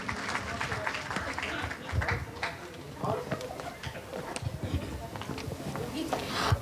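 Audience at a live singing club show in Thane applauds a performer, a dense sustained roar of clapping from a crowd, steady throughout with voices mixed in.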